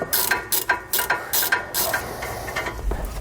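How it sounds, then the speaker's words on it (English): A ratchet with an 18mm deep well socket loosens a flange nut on a sway bar mount under a 2018 Jayco Greyhawk, giving quick bursts of close, crisp clicking in a regular rhythm that slows and fades near the end. "we're going to need an 18mm deep well socket. We're just going to go ahead and remove that flange nut"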